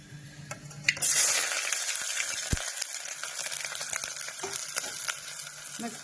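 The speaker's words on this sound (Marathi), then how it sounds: "आता मी टाकते कांदा" Onion drops into hot oil for mutton curry and bursts into a loud, close sizzle that holds steady, with a few clinks of a utensil against the pan.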